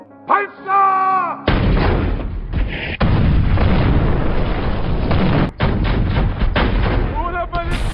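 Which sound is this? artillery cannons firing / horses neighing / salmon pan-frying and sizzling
artillery cannons firing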